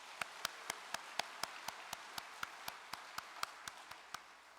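Slow, rhythmic clapping of thanks at a religious gathering, about twenty evenly spaced sharp claps over a quiet, faint background.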